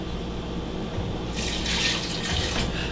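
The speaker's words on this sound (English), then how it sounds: "I'll put a little bit of water" Water poured into soup cooking on the stove in an African kitchen, a steady hiss and splash that starts partway through over a constant background of cooking noise.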